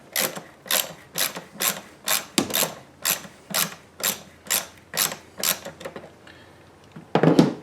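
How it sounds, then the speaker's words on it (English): Ratchet wrench with a 13mm socket loosening a car battery hold-down clamp on a Chrysler Town & Country, about a dozen evenly spaced clicking strokes, close and moderately loud, ending with a short clatter. "I take a 13mm here, and we're going to loosen up this battery hold down clamp."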